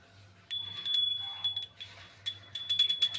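A small prayer bell rung during a Mahalakshmi worship gives a series of bright, clear chimes in quick, uneven strikes with ringing overtones, fairly soft and close.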